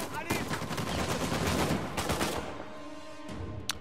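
Rapid bursts of turret gunfire ring out in Uncharted 4, set in Madagascar, as dense automatic volleys that thin out toward the end, with faint game sounds and a brief voice in the background.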